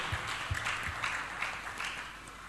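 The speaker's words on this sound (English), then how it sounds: "you can clap if you want to." A small audience at a financial independence seminar claps lightly and loosely, scattered hand claps forming a thin, uneven patter.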